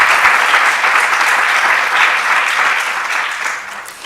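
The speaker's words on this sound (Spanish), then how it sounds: "yo les pido un aplauso para este equipo maravilloso" Steady, dense applause from an audience honoring the event team, loud and sustained for about four seconds before tapering slightly at the end.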